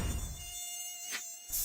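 A mosquito buzzes close by in a thin, steady whine, swelling briefly as it passes before fading, with no voices.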